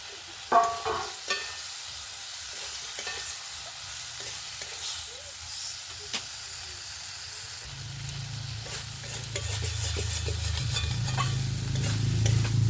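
Fried potatoes and catla fish mince are stirred in a pan, with sharp spatula scrapes and knocks over a sizzle that grows louder and fuller in the second half as frying intensifies.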